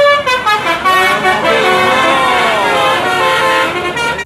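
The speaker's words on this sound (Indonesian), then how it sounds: "di sini ada bus telolet" A telolet bus horn blares a multi-tone musical melody, loud and continuous for about four seconds.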